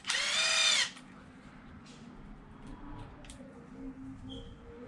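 A power screw gun whirs in one short, loud burst while backing screws out of the mount on an Arrma Kraton EXB RC car, then stops, leaving quiet room noise.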